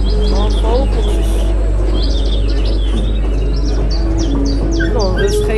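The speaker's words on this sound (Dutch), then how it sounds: "Gewoon vogeltjes." Small birds chirping and tweeting in quick, repeated bright calls from several directions, fairly close, over a steady low hum, with people talking at times.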